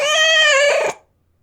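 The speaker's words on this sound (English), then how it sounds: "Within seconds, a cat, grey and ugly, jumped up on the counter." A single grey cat lets out one long, loud, close meow that cuts off abruptly, followed by silence.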